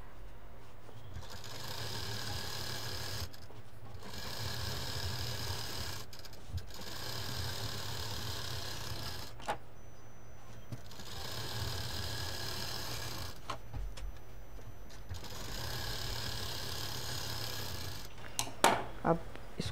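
An electric sewing machine stitches the lining of a side bag in long steady whirring runs separated by brief pauses. The machine is close and heard alone, with a few small clicks at the end.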